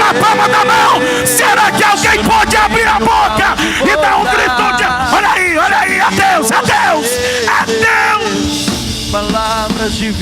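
A church congregation shouts loudly throughout, with many voices yelling and whooping together in a sustained, crowded roar.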